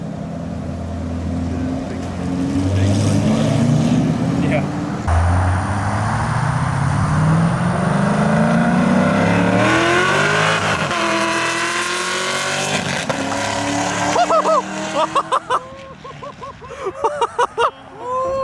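A modified 2012 Corvette Grand Sport with headers, Haltech intake, X-pipe and a dyno tune revs hard on a dyno, a loud rising engine roar that climbs and falls, then ends in sharp popping bursts.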